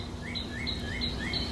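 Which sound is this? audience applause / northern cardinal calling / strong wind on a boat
northern cardinal calling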